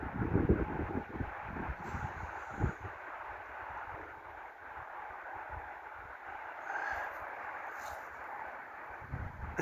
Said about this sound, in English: here comes some bursts of wind